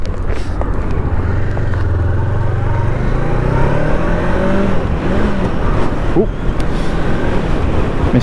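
A Honda CB500X motorcycle accelerates on a ride, its loud engine drone rising in pitch through the gears before a brief stumble where a gear is missed, then the revs climb again under steady wind rush.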